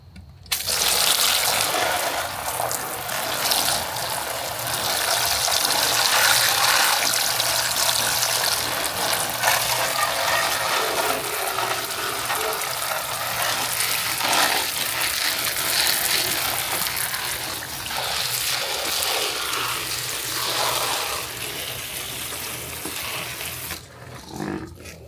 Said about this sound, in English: I'll spray these too.